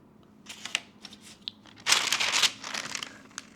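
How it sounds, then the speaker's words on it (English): Small scissors trimming excess cured silicone from a custom lightstick insert, a run of soft close snips and crinkly rustles, the busiest burst in the middle. "Cut out the excess silicone."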